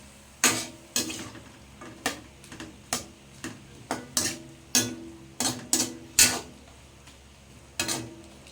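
Squid with egg and green chili gets stirred in a pan, a utensil scraping and knocking against the metal in a steady series of sharp clicks and taps over a soft sizzle, close and clear.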